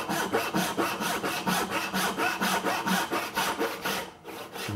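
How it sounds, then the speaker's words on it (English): Bad Axe Stiletto dovetail saw cutting a dovetail in wood, close rhythmic rasping strokes roughly every half second that keep a steady pace, then stop abruptly near the end. "when I reach for my dovetail saw of choice, this is a Stiletto by Bad Axe"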